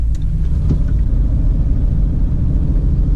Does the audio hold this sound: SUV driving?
yes